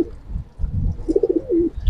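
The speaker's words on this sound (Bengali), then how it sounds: "অনেকেই সিলভার কবুতর পছন্দ করে" A giribaz high-flyer pigeon gives one close, rolling coo that warbles and then trails off, set among soft rustling and low background noise.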